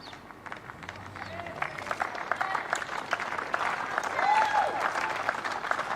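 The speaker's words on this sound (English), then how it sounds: "Big cheer from quite sizable Australian audience here" The crowd at a world bowls women's singles final between Australia and Scotland claps and cheers. The applause swells steadily and peaks near the end, while a commentator speaks over it.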